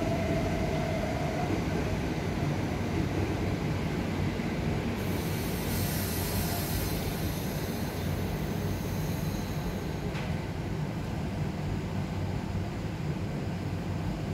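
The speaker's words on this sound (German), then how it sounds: "So, jetzt wird der alte S-Bahn auch schon mal los." An old S-Bahn commuter train pulls away, a steady broad rumble of wheels and rail noise with a brief high squeal partway through, heard close and continuous without talk.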